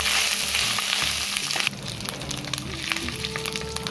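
Ginger paste hitting hot oil with bay leaves and five-spice seeds, a loud hissing sizzle that drops suddenly in level, then continues as softer crackling frying with occasional stirring.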